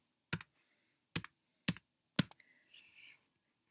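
A computer keyboard being typed on while setting up class video conferences in Microsoft Teams: four separate, crisp key presses spaced about half a second apart, close and fairly quiet, followed by a faint electronic tone.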